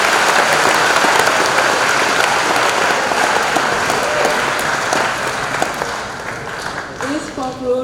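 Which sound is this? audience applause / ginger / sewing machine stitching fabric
audience applause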